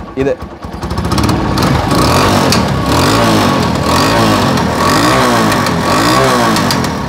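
Vintage scooter engine revving through a silencer with an enlarged outlet hole: a loud, continuous buzzing exhaust note that rises and falls in repeated throttle sweeps, with a voice heard faintly over it.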